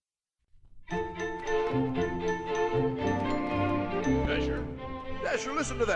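The Jingle Bells tune plays on a bright chiming, tinkling instrument from a 1967 Christmas album, starting after a brief pause and ringing on steadily with a flourish at the end.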